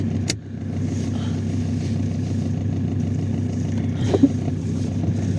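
A car drives through snowy evening weather, its steady low engine hum and road rumble running continuously, with a brief thump near the start and a couple of small knocks toward the end.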